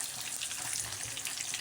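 Hot dogs sizzle and crackle steadily in a hot pan, a close, continuous spitting hiss with no voices.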